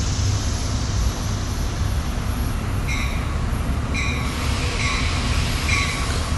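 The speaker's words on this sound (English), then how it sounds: "we're hoping that at 9:34 we get a meet in 4 minutes of Septa trains" SEPTA commuter trains roll past close by with a constant loud rumble, while wheels squeal in several short, high bursts over the last few seconds.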